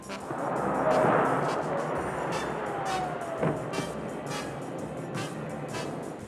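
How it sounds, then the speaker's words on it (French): A cannon salute booms at the opening of Expo 67 in Montreal, sharp distant reports sounding over a continuous wash of harbour noise, ship sirens and crowd ambience. "Dans le port, les sirènes des bateaux, les bateaux-pompes, les cloches de toutes les églises de Montréal, la salve, le canon."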